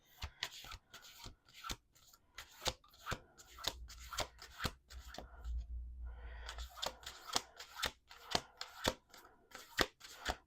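A deck of thin, vinyl-like paper cards is shuffled, with close sharp riffling bursts and taps repeating in an uneven rhythm, including a longer continuous riffle partway through, with no talking.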